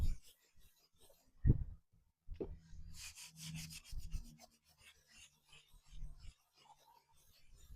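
A cloth rubs dark oil onto painted wood in a series of faint, close, scratchy strokes with occasional soft knocks, quiet and intermittent.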